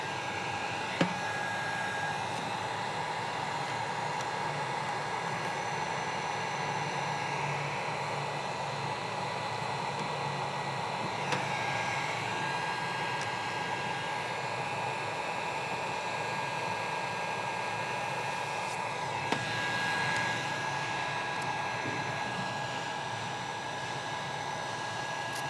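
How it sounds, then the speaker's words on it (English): A heat gun blows steadily on the vinyl grill inlay corners of a 2024 Jeep Rubicon, giving a continuous, even airy whir with a faint tonal hum that holds for the whole stretch without a break. "we're going to use that heat gun one more time on these four corners"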